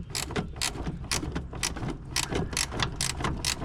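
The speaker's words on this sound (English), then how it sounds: "Now this top one, I've got a flex head ratcheting wrench" A flex head ratcheting wrench works a 3/8 inch bolt during steering column removal on a 1970 Chevelle, giving a close, steady run of rapid ratchet clicks in repeated bursts.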